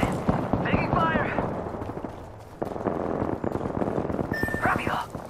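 Gunfire rattles in Apex Legends, with rapid bursts of shots and impacts throughout and a short gap in the middle, mixed with voiced game callouts.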